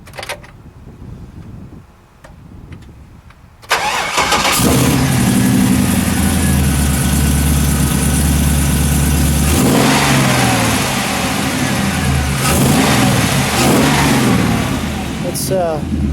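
A Corvette LS3 V8 swapped into a custom 1970 Chevrolet Chevelle SS convertible starts up and idles loud and close with a deep lumpy burble, then is blipped in several sharp revs that rise and fall; a person speaks briefly before startup.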